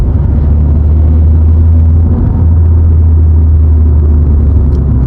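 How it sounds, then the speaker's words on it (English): A VW Polo 1.2 TSI (66 kW) engine drops into fourth gear on a twisty mountain road, a steady loud low rumble with no clear rev change, heard from inside the cabin. "Downshifting, 4th gear."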